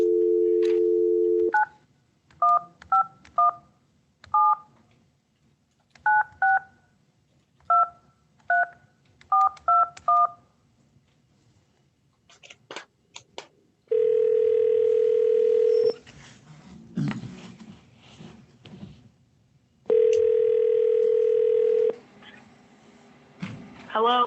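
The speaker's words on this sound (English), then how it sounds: "I'm going to try again. I've been having some trouble with this phone not ringing through." A telephone being dialed during a call attempt: a steady dial tone, then a quick series of paired keypad tones in clusters, followed by long held tones with faint background noise between them.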